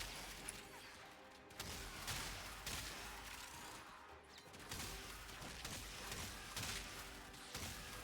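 Bronco Prime Incarnon shotgun fire in Warframe, with repeated heavy blasts and impacts over busy in-game combat noise, fairly loud and dense with rhythmic bursts every second or so.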